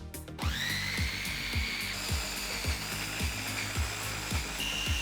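A blender whirs steadily while blending lime with other ingredients after a sharp start, its motor pulsing rhythmically through about five seconds with no voices.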